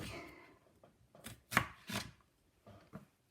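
A knife chops an onion into big chunks on a cutting board in a home kitchen, a handful of soft, close, irregular cutting taps.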